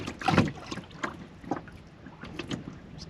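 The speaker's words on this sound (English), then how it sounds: "just gonna paddle out here, float around" Someone paddles a canoe or kayak on Brevort Lake, making soft, close splashes and strokes in an uneven rhythm, about five of them, over faint wind and water noise.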